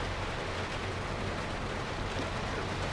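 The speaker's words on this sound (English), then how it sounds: "Hopefully that rain stops anytime soon" Steady, dense rain hisses without a break in the Jurassic World Evolution 2 sandbox park on Corsica, a constant even downpour with a low rumble beneath.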